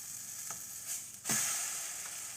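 Food frying in a pan on a stove that had been turned up too high, a steady sizzle with a scrape and a louder hissing burst as it is flipped over.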